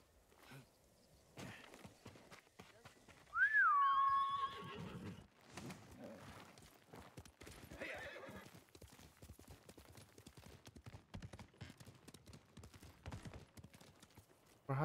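A horse in the video game Ghost of Tsushima gives one loud, clear whinny early on, with soft clip-clop hoofbeats and footsteps running steadily around it.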